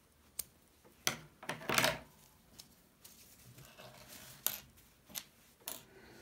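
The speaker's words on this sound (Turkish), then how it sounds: "Fazlalığı kesiyorum." Scissors snipping away leftover crochet yarn from a handmade summer bag, with several sharp, close snips spaced irregularly over a quiet background and some rustling of yarn between cuts.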